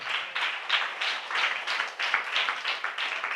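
A church congregation claps together in a steady, rhythmic burst, dense and fairly close, with pulses of clapping repeating evenly throughout and no talk over it.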